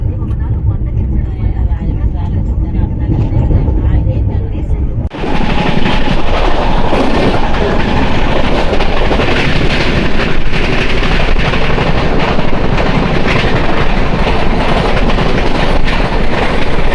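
The Janmabhoomi Superfast Express, train 12806 from Lingampalli to Visakhapatnam, runs on rails just after leaving Tuni. The carriage rumbles steadily, then turns suddenly louder and brighter with rhythmic clickety-clack and rushing wind noise, close and sustained throughout.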